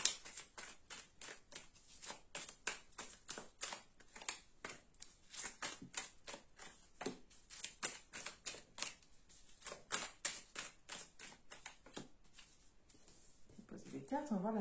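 Tarot cards are riffled and snapped down in a long run of rapid, crisp slaps, close and fairly quiet, with a voice speaking briefly at the end.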